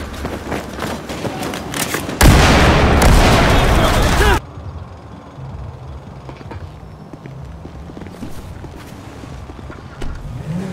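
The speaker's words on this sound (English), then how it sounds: "You signal and we'll shoot the target." Gunfire in a military shooter video game rings out as a loud burst of shots for about two seconds, then drops to quieter background game sounds with faint scattered noises.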